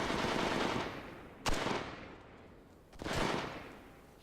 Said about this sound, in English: I think the gun sounds, they feel like placeholders to me.